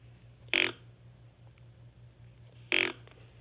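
A deer call imitating a buck grunt gives two short, loud, low grunts about two seconds apart over a faint steady hum.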